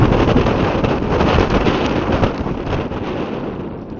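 Wind roars across the microphone at an outdoor youth football match, a loud, steady buffeting rush that fills the whole clip with no speech.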